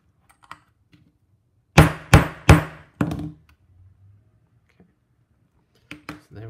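A hammer strikes a spike stud on an anvil with four loud, ringing metallic blows in quick succession, followed by silence and a couple of lighter taps near the end.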